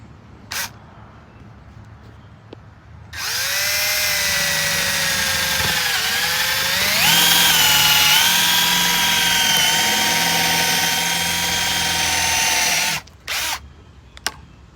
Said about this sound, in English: Pilot hole first.